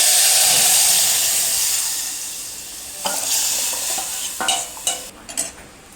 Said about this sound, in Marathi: तर फायनली डाळ पोर करूया आपण